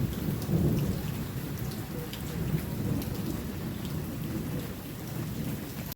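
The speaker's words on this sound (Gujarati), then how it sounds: "પૂરેપૂરો વરસાદ ચાલુ જ છે" Heavy rain pours steadily near a temple in a downpour, with low rumbling thunder rolling underneath throughout, a dense, constant wash of sound with no voices.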